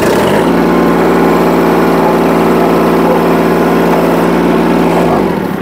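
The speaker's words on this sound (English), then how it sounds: "I'm going to pick this tractor up some more." A tractor engine runs loud and steady while raising the front loader, a constant droning rumble with a mechanical throb that fills the clip from start to finish with no talk.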